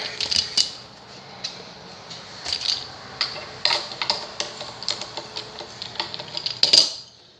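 A string winder turns the tuning peg on a Seagull Merlin, giving a run of small, rapid clicking ticks in uneven bursts, close up and fairly quiet, ending in a slightly louder cluster.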